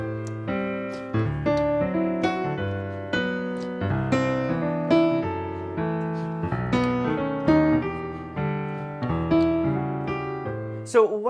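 Jazz chord voicings using the guide tone technique, a sequence of sustained chords played on a keyboard, moving steadily through changes, clear and close with no talking.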